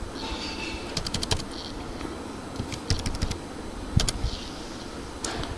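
Fingers type on a computer keyboard while entering a text size value in Photoshop CC: close, clicky keystrokes in short irregular bursts with pauses between, over a faint background hum, and no talking.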